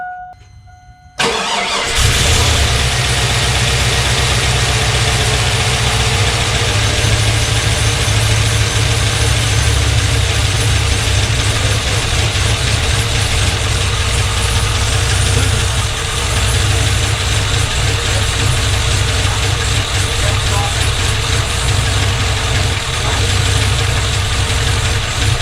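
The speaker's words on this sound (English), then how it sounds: "now I think this is header noise" A car engine starts at first startup and settles into a loud, steady idle with a rough, ticking exhaust header leak noise running continuously throughout.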